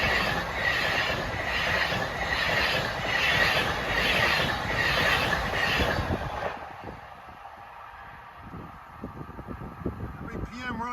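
A Long Island Rail Road M3 electric train on the electrified Ronkonkoma line rushes past close by with loud rumbling and rhythmic wheel clatter, then recedes to a quieter rolling rumble with a brief squeal near the end.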